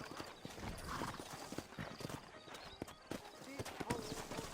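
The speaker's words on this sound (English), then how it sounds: "I got the horses saddled up and ready out front." Horses in the Red Dead Redemption video game, hooves clip-clopping steadily with a neigh rising midway, carried under someone talking at close range.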